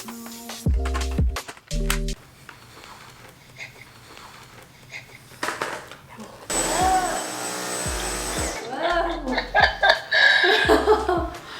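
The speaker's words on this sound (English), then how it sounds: "I vacuumed for 5 seconds and it was like one swipe." A Dyson vacuum cleaner runs on a rug indoors, a loud steady whine starting partway through and continuing to the end, preceded by bumps, handling noises and soft laughter, with voices talking around it.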